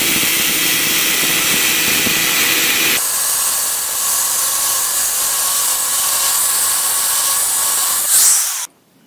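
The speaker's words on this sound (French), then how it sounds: "Et là, je vais tenter de le scier avec une disqueuse ordinaire." Ordinary angle grinder cutting into a metal bearing part of a prototype holder, a loud, steady, high-pitched whine that shifts in tone partway through and then stops abruptly at the end.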